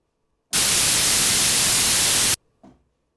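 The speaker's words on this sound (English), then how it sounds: "So let's sample just some noise." A burst of broadband white noise sampled on a Roland MV-8800 sampler starts and stops abruptly, loud and steady for about two seconds, followed by a faint short blip.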